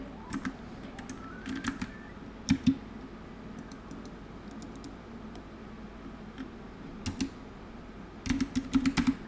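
Computer keyboard keys clicking during a Stray game session, in scattered short bursts of taps with pauses between, a quick flurry near the end, close and fairly clear over a low background hum.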